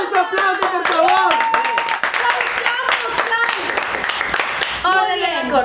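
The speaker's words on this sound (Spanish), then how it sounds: "¡Aplausos, por favor!" A small group claps by hand at a casual gathering of young men looking for a girlfriend. The dense, brisk clapping runs throughout, with loud voices talking and exclaiming over it.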